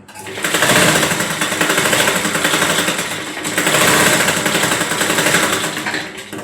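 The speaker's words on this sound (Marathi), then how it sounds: "त्यानंतर आपण इथून इथे अशी शिलाई मारून घ्यायची" A sewing machine stitches a frock hem in rapid mechanical bursts, running loud and close in two long runs with a short pause between them, and no speech.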